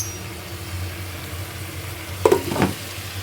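Meat is browned and sautéed in a pan for a Bengali home-style curry. A low, steady sizzle sits under a constant hum, with a brief burst of stirring and scraping near the end.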